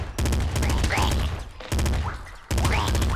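Assault rifle gunfire in the video game Nuclear Throne comes in loud, rapid bursts separated by short pauses, with a voice speaking over the shooting.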